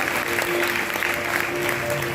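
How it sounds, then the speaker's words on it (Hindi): Audience applause welcoming the guru at a Ramayana satsang gathering in Buddh Vihar, Delhi: steady, dense clapping from a crowd, sustained and fairly loud throughout the short stretch. "तो एक बार आप सभी जोरदार ताली से हमारे गुरुजी का स्वागत करेंगे।"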